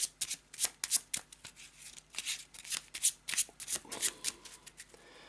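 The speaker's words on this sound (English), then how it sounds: "Give it a shuffle." Eldritch Horror board game cards from the purple deck shuffled by hand, a quick run of crisp riffling and snapping bursts repeating close up throughout, no voices.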